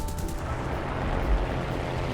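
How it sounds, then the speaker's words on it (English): Continuous roar of 20mm aircraft cannons on a War Thunder fighter pouring fire into a BV-238 flying boat, a dense, steady rumbling stream with no clear gaps or talking. "I am busy lighting him up with my 20mm cannons."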